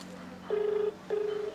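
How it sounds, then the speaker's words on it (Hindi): Two long steady ringback tones of a mobile phone call connecting, each lasting under half a second, separated by a short gap and heard clearly over a quiet background. "लागत बा फोनवा।"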